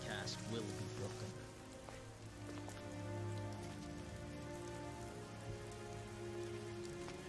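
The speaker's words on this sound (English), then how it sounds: "Should you really be having your book out in the rain like this?" Rain falls steadily in the video game Devil May Cry 3, a soft, constant patter on surfaces layered with low tonal game music, quiet and unbroken.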